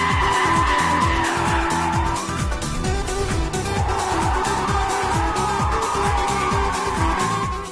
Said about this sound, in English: Sporty, dynamic, and a rich sound, it's unmistakably a Porsche.